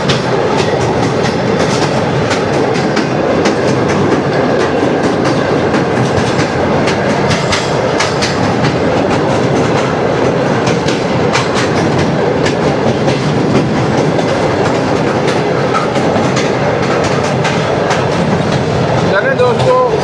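The Shalimar Express passenger train runs steadily along the tracks near the Ravi river at dawn, with a loud, continuous rumble and rhythmic clickety-clack heard from inside.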